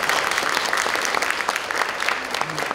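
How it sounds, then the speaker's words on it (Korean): Steady applause from an audience at a future innovation convergence forum, welcoming the Governor of Gyeongsangbuk-do as a special lecture guest, dense continuous clapping filling the room at an even level throughout. "박수 한번 보내드릴까요?"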